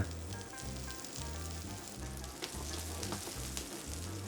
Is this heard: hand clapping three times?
no